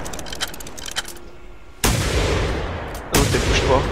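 Two heavy gunshots from a hunting rifle in theHunter: Primal, each a sharp loud blast with a long booming tail, the second following about a second and a half after the first, over quieter game ambience before them.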